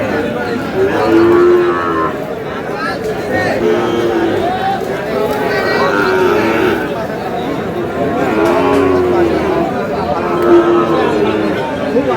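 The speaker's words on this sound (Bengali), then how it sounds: "শাহিওয়ালের ষাঁড় বাচ্চা" Sahiwal bull calves mooing repeatedly at a busy rural cattle market in Aftabganj, Dinajpur, their drawn-out calls rising over a steady crowd murmur and nearby chatter; people talk throughout.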